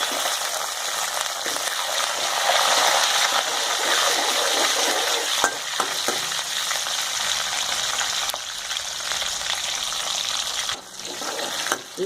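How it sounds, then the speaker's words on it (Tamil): Peeled onions fry and get stirred in hot oil with curry leaves and popped mustard and fenugreek seeds for an oily brinjal curry, giving a steady close broadband sizzle with brief stirring clatters and no voices. "அடுத்து இந்த உரித்த வெங்காயத்தையும் சேர்த்துக்கணும்."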